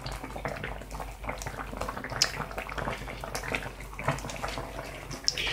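Plum juice for a homemade digestif boiling gently on low heat, a steady dense bubbling and fizzing that keeps going throughout, close and fairly loud, with no talking.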